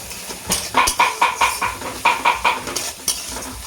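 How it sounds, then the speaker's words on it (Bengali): Spice paste and vegetables being stirred in a frying pan, a steady run of scraping strokes in a quick repeating rhythm, close and fairly loud with a faint sizzle beneath. "এখন আমি সেই গুলে রাখা মশলাটা দিয়ে দেবো। নিয়ে এটাকেও আমি ভালোভাবে নাড়াচাড়া করে নেব।"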